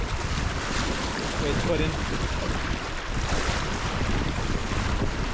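Whitewater churning around a kayak on a small play wave, a steady loud rush of water and wind buffeting the camera throughout, with a brief spoken phrase over it.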